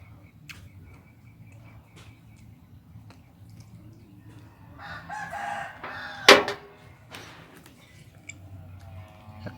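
A rooster crows once, loud and fairly close, rising over a low rumbling background with faint ticking and scattered sounds.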